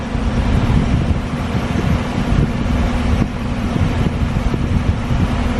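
Steady, loud rush of blowing air from the air-conditioning vent fan of a V8 Colorado, a constant broadband whoosh with a low hum underneath, no voices.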